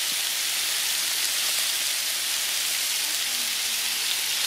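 Bacon sizzling in a pan at a campsite, a steady bright hiss and crackle that runs close and unbroken throughout with no talking.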